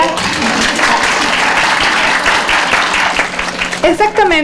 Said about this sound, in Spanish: Aplausos a la compañera.